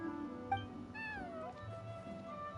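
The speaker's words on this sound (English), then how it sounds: "Cat saying hello." A cat meows in the game Genshin Impact, a single clear rising-and-falling meow near the middle, heard over steady background game music with no talking.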